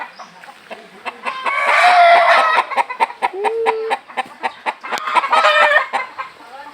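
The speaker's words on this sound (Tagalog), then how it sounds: "Tapos may manok dito." A fighting rooster clucks repeatedly at close range, a rapid run of short throaty notes rising into louder squawking bursts, with a brief drawn-out call in the middle.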